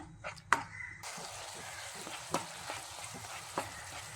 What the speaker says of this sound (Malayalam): വെളുത്തുള്ളിയും കൂടി ചേർത്ത് കൊടുക്കാം. എന്നിട്ട് ഇത് ഇളക്കി കൊടുക്കാം.